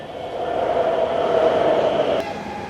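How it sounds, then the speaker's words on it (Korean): Eurostar international train at a station platform, a steady broad rumble of a train running or idling nearby, continuous and fairly loud, with a brief sharp transient near the end and no talking. "이거 유로스타다. 이건 우리 런던 갈 때 탈 거."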